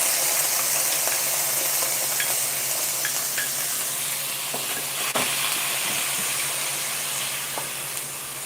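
Onion frying in a pan for a corned beef breakfast gives a steady, soft sizzle and hiss, with occasional faint clinks and stirring, and no talk over it.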